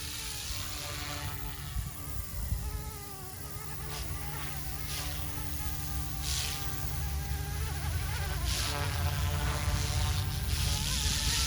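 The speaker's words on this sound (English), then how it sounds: "The tail motor is a little louder." An OMPHOBBY M2 RC helicopter buzzes steadily in flight with a high, whiny motor drone and a noticeable tail motor, continuous and fairly close throughout with slight swells in pitch.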